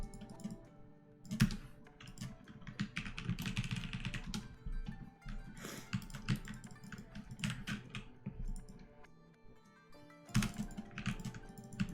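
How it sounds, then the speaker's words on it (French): Rapid typing on a computer keyboard, fast irregular clicks and clacks in bursts with brief pauses, close and moderately loud, no speech. "C'est le clavier je pense, ouais c'est le clavier hein."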